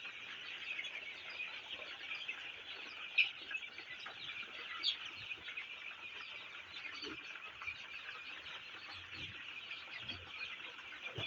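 Chickens cluck faintly and intermittently at a low level, with a few brief sharper calls and a steady background hiss and no talking.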